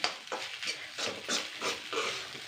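Brinjal rice being stirred and mixed in a pan over high flame, a steady run of soft scraping and tossing strokes, close and moderately loud with no talking.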